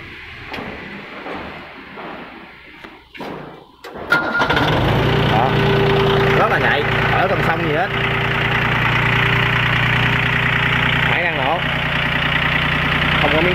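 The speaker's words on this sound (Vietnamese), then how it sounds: "Đây, nhích nhẹ cái máy nổ cho anh em xem coi nha." A used excavator with a 0.25 bucket at a yard in Long Khanh, Dong Nai, starts up partway through with a loud engine catch, then idles steadily and loudly up close. Someone speaks beforehand.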